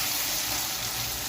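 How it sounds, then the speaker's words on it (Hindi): Masala with tomatoes, salt and turmeric powder frying in a pan for aloo baingan, a steady close sizzle with a bright hissy wash and no pauses. "अब थोड़ा सा मसाले को भूनेंगे ताकि जो हमारे टमाटर वगैरह सॉफ्ट हो जाएं"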